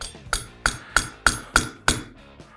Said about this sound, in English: We're gonna start the roll pin with our roll pin starter punch.